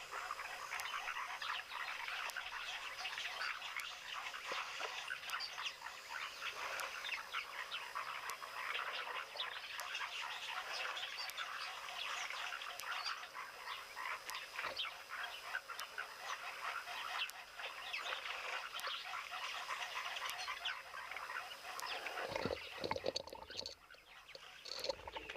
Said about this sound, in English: Great to hear these foam nest frogs as well.